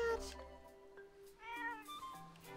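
A cartoon cat in the Zelda: Echoes of Wisdom game lets out a few quick, high, melodic meows and a drawn-out caterwaul, soft and clear over gentle game music.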